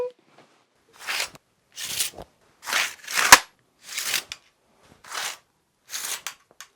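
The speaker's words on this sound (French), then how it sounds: "si je tire mes épées gauloises, ça fait plutôt un bruit de tôle un peu gras" Gaulish swords drawn one after another from metal scabbards, seven or eight short, bright scraping bursts roughly a second apart, close and fairly loud, with no voices.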